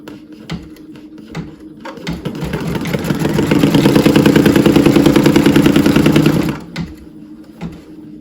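A Brother V5LE embroidery machine runs a placement stitch, its rapid steady needle chatter building up, holding loud and even for a few seconds, then stopping, with softer mechanical clicks before and after.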